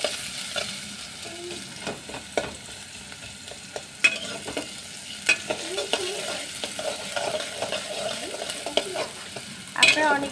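Onion and green chili frying over high heat in a pan, with a constant sizzle under frequent spatula scrapes and taps on metal and a sharp clatter near the end, with no voices.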